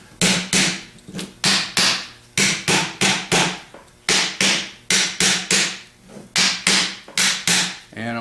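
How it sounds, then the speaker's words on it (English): Sharp, rhythmic hammer taps ring out loud and close as someone works around a 4G alternator housing to loosen it, roughly two strikes per second with brief pauses and no talk. "and I'm just tapping from side to side"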